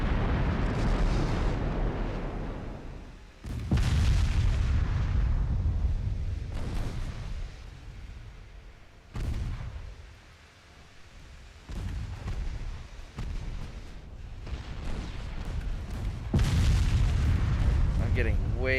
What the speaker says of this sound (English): Please shoot the battleship.